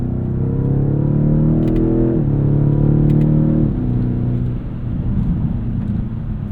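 A 2017 BMW X6 M engine under acceleration heard from inside the cabin, a loud harmonic growl that climbs in pitch, drops at each upshift, then settles into a lower rumble.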